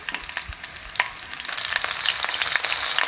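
Nigella seeds and green chilli spluttering and crackling in hot oil for an aloo methi potato curry, a dense run of close, sharp pops over a steady sizzle that grows busier toward the end.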